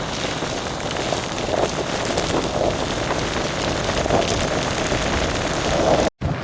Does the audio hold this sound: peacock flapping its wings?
no